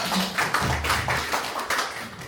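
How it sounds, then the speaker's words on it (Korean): Applause for a city council member at an intangible cultural heritage seminar at the Bucheon Cultural Center: a scattered crowd clapping with irregular, fairly close taps throughout, and no talking. "다시 한번 시 의원님께 박수 한번 부탁드리겠습니다"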